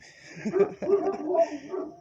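Several dogs bark and yip in quick overlapping bursts, fairly close, with a few whimpering notes mixed in.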